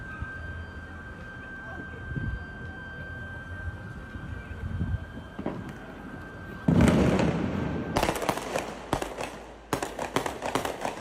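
Fireworks go off in city streets, starting with a muffled boom and a crowd murmur, then a string of sharp, crackling bangs and pops ringing out close by. Voices can be heard talking underneath.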